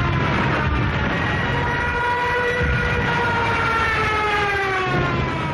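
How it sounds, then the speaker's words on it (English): A Stuka dive bomber's rising, wailing siren screams over a dense roar, its pitch sliding steadily upward and then downward, loud and continuous. "the Stuka, and fitted with a screaming siren"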